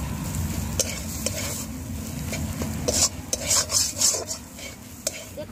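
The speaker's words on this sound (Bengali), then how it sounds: "দেখুন মশলাটা আমার লাল লাল করে ভাজা হয়ে গেছে" Spice masala with Kashmiri chili powder sizzling in a pan for chicken korma, stirred with a spoon scraping the metal in irregular strokes, close and steady, with sharper clinks and scrapes growing louder toward the end; no voices.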